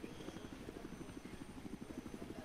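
A helicopter in the video game Battlefield 4 gives off a continuous, rhythmic rotor chop with a steady engine drone, fairly close and even throughout.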